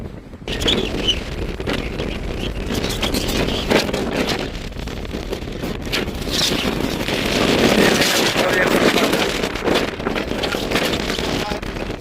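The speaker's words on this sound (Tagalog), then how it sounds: "Napakalakas ng hangin." Strong wind buffets the microphone in heavy gusts by a cable car station, roaring loudly and close throughout, with a voice talking intermittently underneath.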